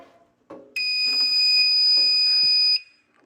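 A fire alarm system panel sounds in alarm, a loud steady electronic tone that holds for about two seconds alone, preceded by brief clicks and handling noise, then cuts off abruptly.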